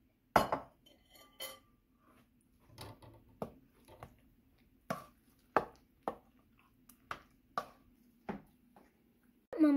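Utensils clink and scrape against a bowl while vegetables are mixed, a sparse series of sharp metallic taps and knocks at irregular intervals, close and fairly quiet, with silence between strokes.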